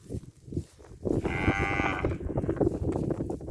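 Beef cattle from a herd of about 600 grazing on open pasture in Thailand give one long, loud, close moo that starts after a second of quieter shuffling and carries on to the end, with no talking.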